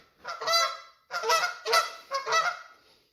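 Geese honk loudly and close by in four bursts of harsh, nasal calls, with short pauses between them and no voices.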